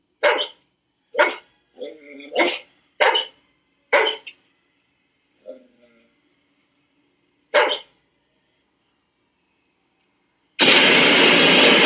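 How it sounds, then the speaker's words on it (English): A dog in a horror film scene gives a string of sharp, loud barks with short pauses between them, then falls silent before a sudden harsh burst of noise cuts in. "her dog starts mysteriously barking in the corner"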